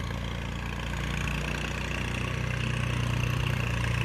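Tractor engine running in a field, a steady low rumbling chug with a regular pulsing beat, close and continuous, growing slightly louder toward the end.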